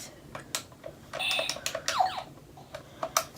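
Clicky buttons on an arcade-style video game controller for Centipede or Space Invaders, pressed in a quick irregular run of sharp close clicks and taps, some clustered, with brief pauses between.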